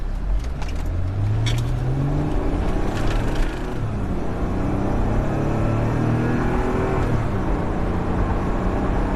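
A 1998 Mercedes E320 wagon with 81,000 miles pulls away from a stop sign at part throttle, engine note rising through gear shifts over a steady road and cabin rumble, heard from inside.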